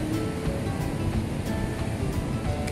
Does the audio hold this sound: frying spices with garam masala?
no